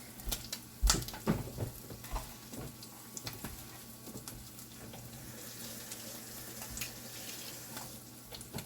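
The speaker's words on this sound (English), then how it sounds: "I'm going to go wash our hands real quick." Tap running steadily into a kitchen sink while hands are washed under it, a constant close hiss of water broken by brief splashes and clatters, with no talking.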